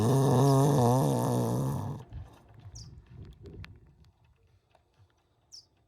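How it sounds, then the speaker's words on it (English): An old man snoring by a pool gives one loud, wavering, rumbling snore lasting about two seconds. Quieter outdoor background follows, with a few faint, brief chirps. "The old man, he's snoring."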